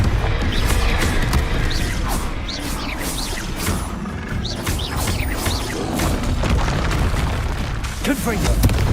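A Confringo spell explosion in Hogwarts Legacy: loud booming fiery bursts and crashing impacts repeat through an intense fight, with other spell effects whooshing and a voice speaking underneath.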